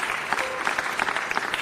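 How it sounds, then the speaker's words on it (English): Audience applause at a city council meeting, a short burst of steady clapping from a crowd in a hall, continuous and moderately loud, with no clear talking over it. "Let's give them a round of applause."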